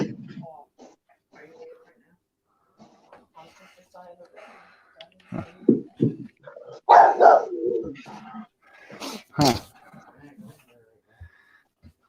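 A dog barks a few times in sharp bursts, mixed in with people chatting nearby and birds cooing in the background.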